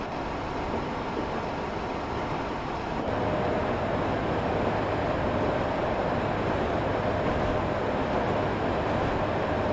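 Class 86 electric locomotive running on the Great Eastern Main Line between Norwich and Ipswich in the OpenRails train simulator, a steady loud rolling rumble with continuous wheel and track noise throughout, no voices.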